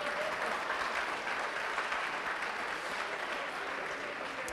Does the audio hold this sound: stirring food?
no